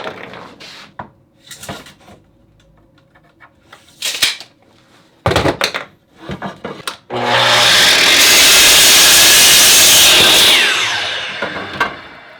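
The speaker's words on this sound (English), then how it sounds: "So first, I'll cut my wood." A power saw cuts wood for a rollerblade rack, a loud, dense roar lasting about four seconds after a run of scattered knocks and clatter from handling the boards.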